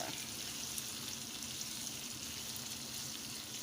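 Smothered potatoes fry in vegetable oil in a pan, giving a steady, even sizzle and crackle that holds at a constant level throughout, with no talking.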